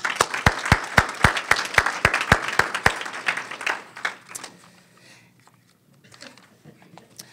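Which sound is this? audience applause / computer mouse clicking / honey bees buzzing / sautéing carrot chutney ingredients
audience applause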